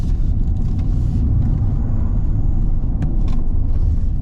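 BMW i5 electric sedan accelerating under throttle on the road, a steady dense low rumble of tyres and wind with a faint whine, continuous and loud throughout, with no talk.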